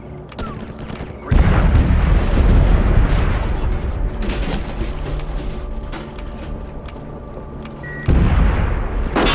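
A grenade in the Socom 4 video game goes off with a loud low boom and long rumbling tail, followed by a second heavy blast near the end, with mechanical clanks in between.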